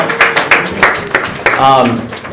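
Scattered clapping from a student audience at a university medical society event, a few sharp claps spaced unevenly, with talking heard over and around them.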